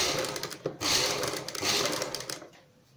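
A sewing machine runs steadily up close, stitching along corded piping on a plus-size kameez, a continuous whirring hum that slows and trails off near the end.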